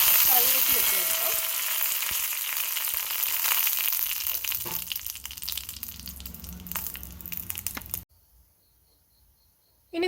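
Curry leaves crackle and sizzle as they drop into hot coconut oil with spluttering mustard seeds, a close, dense frying hiss that runs steadily for about eight seconds before cutting out abruptly.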